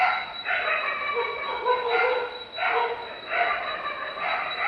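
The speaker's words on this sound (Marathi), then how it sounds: "हा बघा एक भुकला की सगळे चारही भुकायला लागतात" Several stray dogs barking at a suburban railway station at night, a pack of about four setting each other off in repeated bursts of yelps and barks, moderately close, with a steady high electrical whine in the background.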